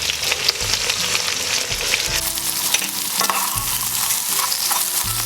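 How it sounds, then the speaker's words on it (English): Yogurt stirred into mutton frying with ginger, garlic and green chili paste for yakhni pulao, giving a continuous bright sizzle with scraping spoon strokes, close and fairly loud with no voices. "Next I'm adding in the yogurt"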